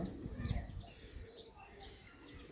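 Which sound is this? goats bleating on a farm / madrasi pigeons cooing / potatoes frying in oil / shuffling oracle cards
madrasi pigeons cooing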